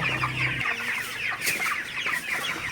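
Broiler chickens on a poultry farm clucking and chattering continuously at close range, a dense overlapping flock sound with no talk.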